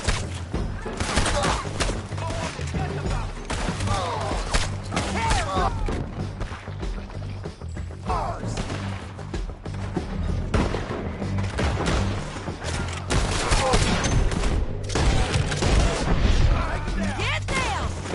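A continuous firefight in a PS4 shooter, with dense bursts of gunfire, explosions and impacts rolling on throughout while players shout over the noise.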